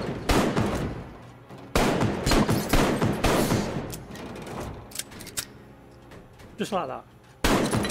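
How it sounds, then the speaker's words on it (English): A gun fires at targets in the VR shooter Arktika.1: loud, close shots come in bursts, some sharp single cracks and some rapid volleys, with someone briefly talking between them. "Fire at the targets."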